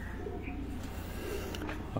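A black-faced breed pigeon coos softly and steadily throughout, a low murmuring call close by, with faint background noise and no talking.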